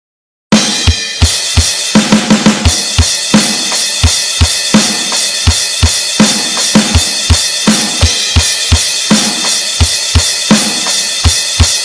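Drum kit pounds out a steady rock beat for a song, kick and snare hits with cymbal wash, loud and close at a regular tempo, no voices.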